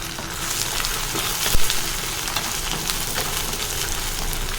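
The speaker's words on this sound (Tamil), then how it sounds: "அதையும் சேர்த்து நல்லா வதக்கி விட்டுறலாம்" Sliced onions for mint chutney sizzle steadily in a hot pan, with a brief clink of stirring partway through and no voices.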